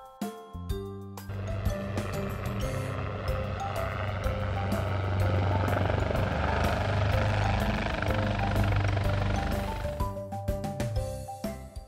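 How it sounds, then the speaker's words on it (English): An army transport helicopter passes with a loud, steady rotor thrum that builds to a peak and then fades. "Army transport helicopter."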